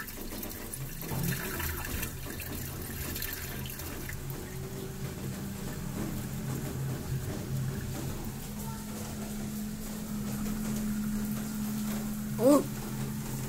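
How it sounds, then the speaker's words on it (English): An LG inverter washing machine's drain pump runs steadily with a low hum and water noise, close by, and a person talks briefly over it. "Okay, that's an inverter pump."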